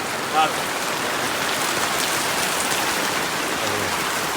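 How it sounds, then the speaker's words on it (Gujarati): Heavy night rain pours down in a dense, even roar that never lets up, loud and close throughout. "વરસાદ પડે તાળી માર બંધ નહીં રહે હવે ઠેઠ લગભગ સવારે બંધ થાય તો થાય આખી રાત વરસાદ આવશે"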